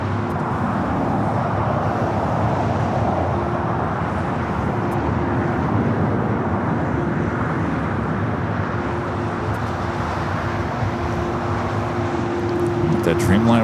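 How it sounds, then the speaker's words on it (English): A Delta airliner on its takeoff roll at LAX, a broad, steady engine roar holding loud throughout, with a commentator speaking over it. "It's Delta 782 taking off to Atlanta"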